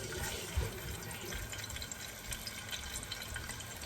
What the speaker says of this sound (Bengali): তেল গরম হয়েছে আমি মাছটা ভাজতে দিয়ে দিয়েছি